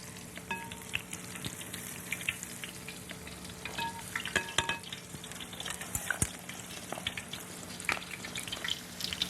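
Broccoli pieces in tempura batter fry in hot oil with a dense, steady sizzle and crackle, sharp pops and spits scattered throughout, close and continuous with no voices.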